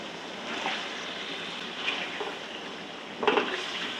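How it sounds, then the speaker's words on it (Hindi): Chicken browning in a spiced masala in a pot, giving a soft, steady sizzle with occasional stirring scrapes and a brief louder clatter near the end, no voices. "और चिकन को तकरीबन मैं 6 से 7 मिनट भून लूँगी"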